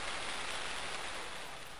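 Steady rain pours down in a video game, a dense, even hiss of falling drops with no breaks or other sounds over it.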